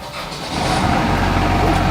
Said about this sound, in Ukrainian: Ми запустили двигун, все.